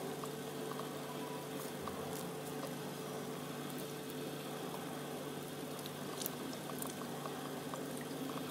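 Homemade wipe liquid is poured into a bowl holding a cut paper-towel roll, a faint, steady liquid rush running evenly throughout.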